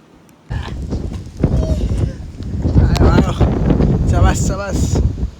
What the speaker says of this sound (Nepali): यो सानोतिनो हावाले मलाई केही हुँदैन